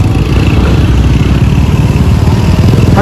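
A motorcycle engine runs loud and close for a few seconds with a rapid, chugging low-pitched beat, and a brief higher whine rises at the very end.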